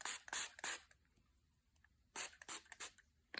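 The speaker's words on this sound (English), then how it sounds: "spray, spray, spray." A homemade glimmer spray misted through a stencil from a spray bottle: two quick clusters of short, hissing squirts, close and fairly quiet, with a pause between them.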